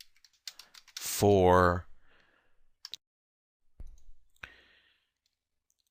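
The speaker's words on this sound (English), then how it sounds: "All right, I just typed this in." Keys clatter on a computer keyboard as code is typed for an Android game, in short bursts of light clicks before and after a brief spoken word from a nearby voice.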